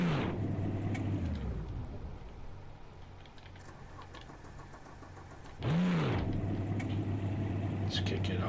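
A modded car's engine in Project Cars 2, heard from the interior: a steady idle that revs up and falls back early on, settles into a low drone, then swells again into a louder rev near the end.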